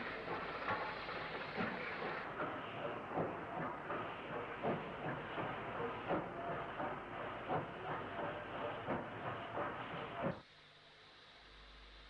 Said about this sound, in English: An up Poole to York train arrives behind 34044 Woolacombe.